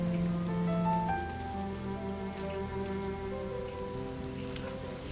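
Steady rainfall patters in the video game Rime, a soft continuous hiss with quiet, drifting musical tones layered underneath.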